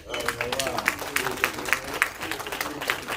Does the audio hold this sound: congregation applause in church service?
yes